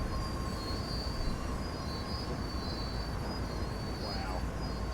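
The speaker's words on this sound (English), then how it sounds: "it's a big old train" A heavy freight train rolls on through the Cajon Summit to Barstow route in the Train Sim World game, giving a constant low rumble with a thin high wheel squeal above it and no break for the whole stretch.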